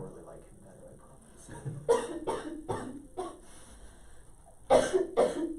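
A run of about six dry coughs during an algebra lesson, in two clusters of quick hacks separated by a short gap, fairly close, with quiet talking in the background.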